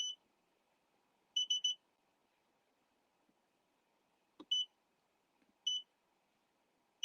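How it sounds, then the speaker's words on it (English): Short high-pitched electronic beeps from an embroidery machine in quick groups of two or three, repeating every few seconds over a faint low hum. "this little beeping is driving you all crazy"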